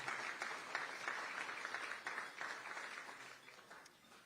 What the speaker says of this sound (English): let's give Krista a round of applause